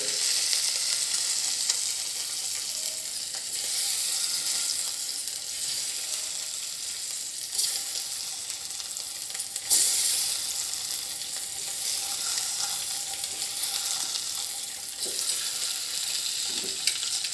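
Cut egg frying in a pan, giving a steady, close sizzle and crackle that runs the whole time with small spits and pops, with no voices.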